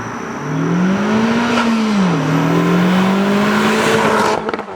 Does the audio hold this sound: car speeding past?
yes